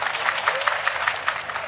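Applause from a lecture audience, a short burst of brisk clapping with crisp individual claps standing out close by, lasting under two seconds without talk.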